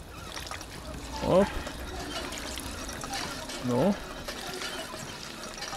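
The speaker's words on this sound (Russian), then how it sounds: "Давай попьем воды." Drinking water in Fallout 4: a soft, faint liquid trickle and pour at low volume, with two brief spoken interjections over it.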